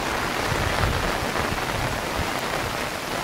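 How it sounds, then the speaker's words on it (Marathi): Torrential rain falls across a rural village, a thick, constant roar of drops with faint low rumbling beneath, near and loud, no talking. "पूर्ण पाऊस चालू आहे।"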